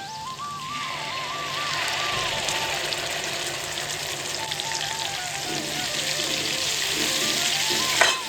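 Green chilli, ginger and spices sizzle in hot oil as a tempering for a Kathiawadi stuffed brinjal and potato dish. The frying crackles steadily and close up, with a faint wavering whistle running through it.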